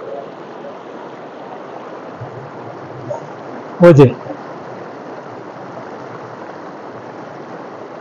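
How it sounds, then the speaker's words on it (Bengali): Bhaga, a winding mountain river near Jispa in Lahaul, Himachal Pradesh, gives a steady, broad rushing of flowing water throughout, with a voice speaking briefly near the middle. "এই নদীর পানি।"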